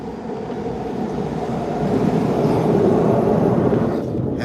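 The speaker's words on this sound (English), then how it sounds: "wait for this train to pass" A train passing in the Kensington neighbourhood, a steady rolling rumble that swells gradually and stays loud and close throughout, with no talk over it.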